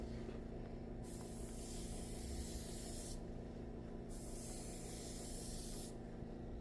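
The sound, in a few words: spray paint can spraying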